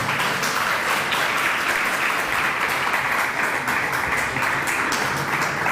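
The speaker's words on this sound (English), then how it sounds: "That clapping will only make sense if you be able to follow what I said today." Dense, steady applause from an audience at a Hare Krishna lecture on the Bhagavad Gita, sustained and fairly loud throughout with no talking over it.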